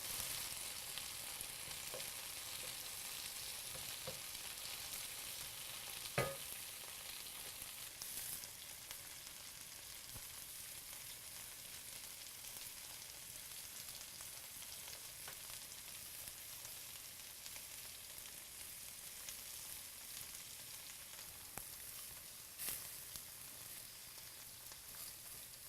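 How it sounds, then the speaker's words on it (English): Steaks searing in a hot pan, two at a time, alongside softening peppers for pepper steak; a steady, close frying sizzle runs alone throughout with a couple of brief clinks. "I'm going to do 2 of these at a time, so not to overcrowd the pan. We're going to let those sear on both sides."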